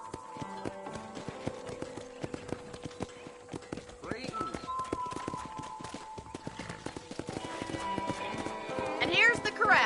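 Horse hooves clip-clopping at a steady walk in the western video game Red Dead Redemption, rhythmic clops up close with a brief whinny and rising music near the end.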